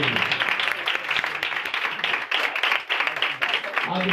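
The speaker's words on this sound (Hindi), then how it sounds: "जोरदार ताली" A church congregation breaks into loud, sustained applause, a dense wash of many hands clapping together that fills the room for several seconds.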